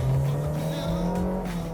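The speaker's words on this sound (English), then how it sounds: "It's super noisy when you accelerate" A Honda Fit small car with a 1.5-liter engine drones loudly and steadily while accelerating, heard up close from inside the car for under two seconds, with no talk.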